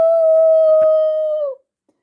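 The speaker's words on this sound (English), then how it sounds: "They all began howling." A long drawn-out dog howl holds one steady tone for about a second and a half, then slides down and cuts off, loud and close with no speech, used as a sound effect in a children's audiobook.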